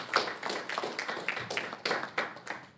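A small audience at a trading master class claps in a loose, uneven patter of individual hand claps for about three seconds, moderately close, with no talking over it.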